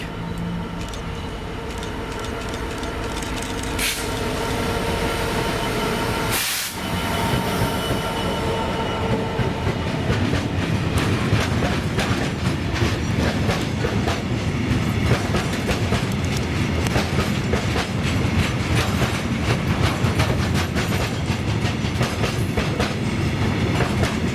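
Class 66 diesel locomotive 66099 hauling an engineers train from Carlisle to Millerhill past Slateford, a loud, steady roar of passing wagons with rhythmic wheel clatter and occasional squeal that grows busier as the train goes by.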